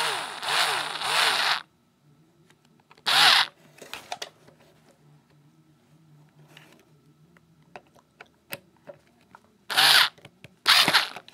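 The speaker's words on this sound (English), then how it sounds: "you tighten the screw with a screwdriver. I wouldn't recommend an automatic one like I'm using" An automatic screwdriver tightens a screw while a toggle switch is wired to a fire alarm, giving a few short, close whirring bursts separated by quiet stretches with faint handling clicks.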